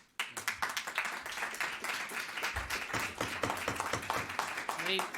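Audience applause at a town meeting: a dense round of clapping starts abruptly and continues steadily, fairly close, with voices murmuring underneath.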